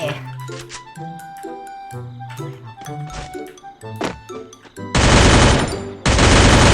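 P90 submachine gun fire in a video game, heard as rapid bursts of shots with thuds and game effects. A loud, dense, sustained roar of automatic fire dominates the final two seconds.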